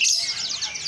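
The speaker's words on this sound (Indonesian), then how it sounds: "burung pleci. Nah, pleci lokal ini." Javanese white-eye birds, local Madura pleci, chirp in quick, bright, overlapping trills at the Sumenep bird market, loud and close.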